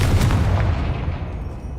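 A Confringo spell explosion in Hogwarts Legacy, a single loud, low booming blast at the start that rumbles and fades away over under two seconds, with no talking.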